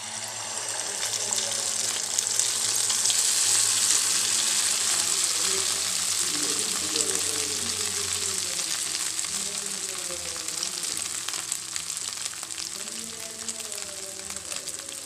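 Yereyappa, a Tulu sweet, frying in a pan over a slow flame, giving a steady, loud, continuous sizzle and bubbling throughout, with no one speaking.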